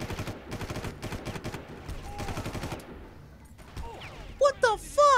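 Several bursts of rapid video game gunfire from Far Cry, each a loud rattling volley followed by sharper scattered shots and chaotic in-game effects near the end, with someone talking excitedly over the combat.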